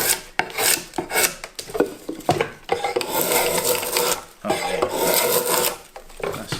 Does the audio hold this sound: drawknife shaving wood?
yes